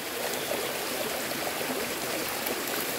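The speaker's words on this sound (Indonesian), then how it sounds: "kali seperti itu. Pinggir sungai." A river flows at night along its bank, giving a steady, dense rush of water that stays close and even throughout, with no voices.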